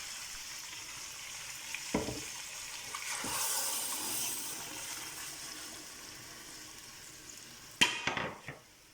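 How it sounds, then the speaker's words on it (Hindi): Yakhni, a meat broth, poured into a pot of browned beef for pulao raises a steady, close sizzling hiss with a few sharp knocks early on and a louder splashing rush near the end, with no voices. "अब हम इसके अंदर डालेंगे यखनी।"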